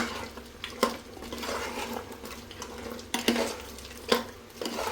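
Masala being stirred into simmering mutton gravy in a pot, with a spoon scraping and knocking the metal rim in irregular strokes over a soft bubbling sizzle.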